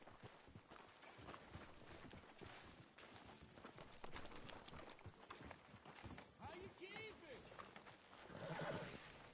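A horse in the video game Red Dead Redemption 2 whinnies amid hoof clops and steady game ambience, with people talking throughout.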